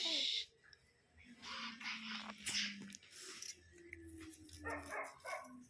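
At a small family birthday celebration, a puppy gives a few short, high yips and barks in scattered bursts. They are faint and close, over a quiet room with a brief louder noise at the start.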